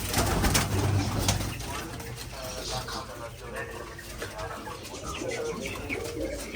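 Several pigeons coo in soft, repeated bursts, with a louder rustle or flutter at the start and some faint background noise.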